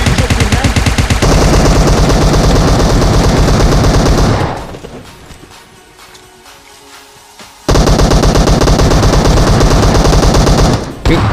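Rapid automatic gunfire from a gun in the zombie mode of the mobile shooter PUBG Mobile, loud and close, with a long burst, a short lull of quieter rattling, then another sustained burst.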